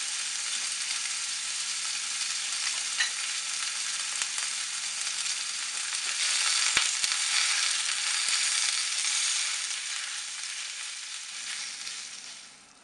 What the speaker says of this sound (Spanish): lo que vamos a hacer es a sofreír la carne junto con las verduras